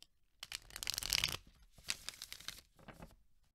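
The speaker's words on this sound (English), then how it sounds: "That's the riffle shuffle." A tarot card deck being riffle shuffled by hand, a crisp fluttering burst followed by softer rustling as the halves interleave and are squared, close and alone without talk.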